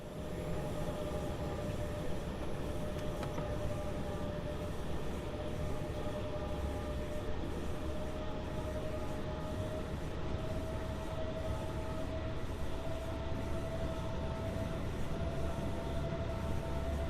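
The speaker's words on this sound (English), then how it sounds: "It's nice to watch trains go through the bridge" Trains roll along the line in Train Sim World 2, giving a steady, continuous rumble with a faint whine held throughout and no speech.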